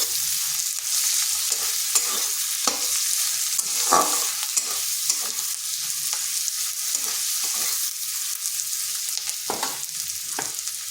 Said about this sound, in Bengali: পেঁয়াজটা খুব বেশি ভাজবো নি একটু নরম হয়ে আসলে